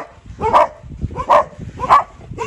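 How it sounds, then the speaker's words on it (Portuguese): Dogs at a rural homestead in Brazil bark in three loud, evenly spaced woofs, close by, with soft rustling between them and no talking. "esperando os cachorros parar de latir"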